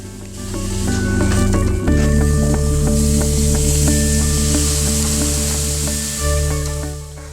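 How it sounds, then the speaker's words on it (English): Meat sizzles loudly on a hot grill, a steady crackling hiss with a low hum running underneath, briefly dipping twice before resuming. "Listen to that sizzle."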